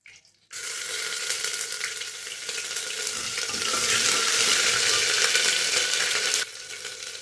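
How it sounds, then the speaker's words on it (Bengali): Ginger garlic paste sizzles in a hot pan for mutton haleem, a steady hiss that starts abruptly, grows a little louder and denser midway, then drops back near the end, with no talk. "এরপর আদা রসুন পেস্ট যেটা রেখেছিলাম সেটা দিয়ে দেবো।"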